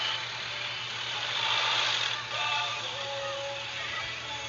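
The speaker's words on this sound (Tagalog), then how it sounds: "Yan, may truck pa." A truck engine rumbles steadily within a political caravan in Camarines Sur, a low continuous drone under broad traffic noise that swells briefly and eases as vehicles pass nearby.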